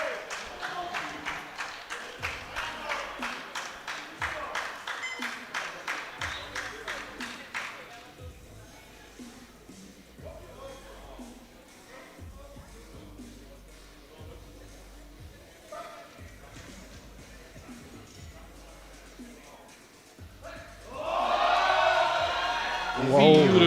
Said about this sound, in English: Big support from the Czech home crowd.